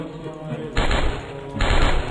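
Call of Duty gunfire comes as two loud, close bursts of rapid shots, each lasting under a second, over quieter game background.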